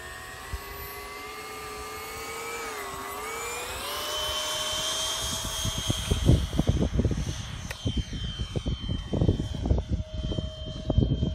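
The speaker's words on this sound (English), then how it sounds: "This is Mario's Meteor with a custom paint job." A Meteor airplane with a custom paint job drones overhead, its engine pitch sliding and shifting as it passes. Gusty wind buffeting grows louder in the second half.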